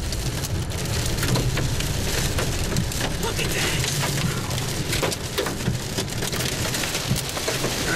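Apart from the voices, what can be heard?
large hail falling during a tornado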